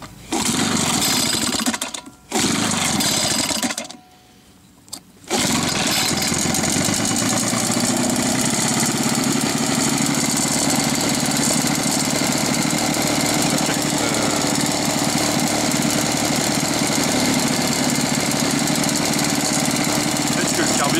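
An ECHO backpack leaf blower's engine starts after a couple of brief bursts and a short pause, then runs loud and steady at a constant drone for the rest of the time.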